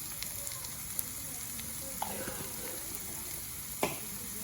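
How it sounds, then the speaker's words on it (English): Ground coriander and cumin toast in a hot pan, giving a soft, steady sizzle with a few faint ticks and crackles, quiet and alone. "We just toast this off for a minute."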